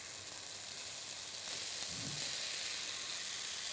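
Peas go into a hot pan of sizzling bacon lardons, a steady close frying crackle that thickens briefly as they land.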